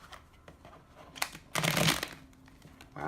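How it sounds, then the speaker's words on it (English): A deck of tarot cards is shuffled by hand for a reading, soft papery riffles building to a louder, dense burst near the end, with no talking. "let's just do a little shuffle for Libras"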